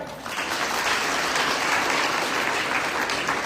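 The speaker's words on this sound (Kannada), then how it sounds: "ಅದಕ್ಕೊಂದು ದೊಡ್ಡ ಚಪ್ಪಾಳೆ" A large audience claps loudly and steadily for an event with the chairperson of the Karnataka State Women's Commission, a dense unbroken wash of applause lasting the whole stretch.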